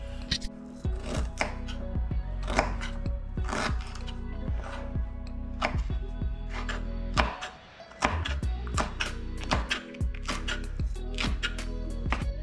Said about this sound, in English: let us mix and chop up these pieces into fine little segments